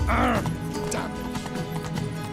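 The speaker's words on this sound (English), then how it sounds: "Run, Roach" Hoofbeats of the horse Roach galloping in The Witcher video game, a steady clip-clop with a whinny near the start, alongside game sounds.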